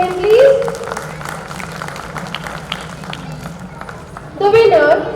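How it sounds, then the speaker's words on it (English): Broadband clapping from a crowd at a school annual day prize distribution ceremony fills the clip, with voices over it at the start and end. "A huge round of applause for him, please."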